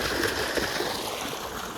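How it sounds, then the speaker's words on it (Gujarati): Water gushes steadily from a pump on a farm, a continuous close rushing and splashing with no voices over it. "જો મિત્રો પાણી થઈ ગયું ચાલુ"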